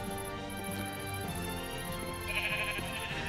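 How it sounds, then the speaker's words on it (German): Sheep bleating in the video game Minecraft, a few short bleats over a steady musical game background, moderately loud with no talking. "immerhin haben wir Schafe gefunden. Und zwar noch gleich 3."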